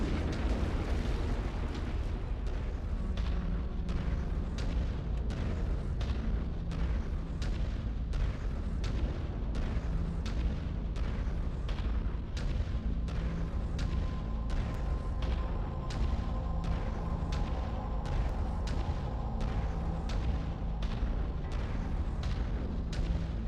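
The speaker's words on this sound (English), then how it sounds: "Critical explosion imminent." Battle in the game MechWarrior 5: Mercenaries, with a mech about to blow up amid dense, rapid booming blasts and heavy weapon fire that pound continuously and loudly throughout, with no talking.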